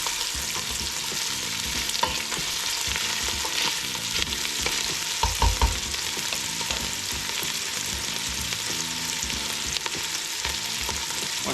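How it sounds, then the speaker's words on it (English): Sausage frying in a hot pot, a steady dense sizzle with sputtering pops and occasional stirring scrapes, loud and continuous with no talking. "won't take long to get this sausage brown on both sides"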